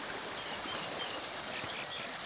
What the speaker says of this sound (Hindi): पानी की तुसा तेज़ी वेखो भी कितनी तेज़ी नाल पानी जा रहा है।